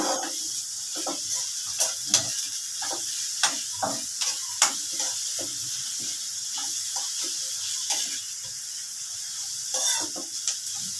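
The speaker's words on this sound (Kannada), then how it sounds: "ಬಟಾಣಿ ಹಸಿ ಬಟಾಣಿ ಹಾಕಿ ಫ್ರೈ ಮಾಡಿದ್ರೆ ತುಂಬ ಚೆನ್ನಾಗಿರುತ್ತೆ" Finely grated carrot, curry leaves and fresh green peas fry in a pan at home, giving a soft, close sizzle broken by frequent short crackles and stirring scrapes, with no speech.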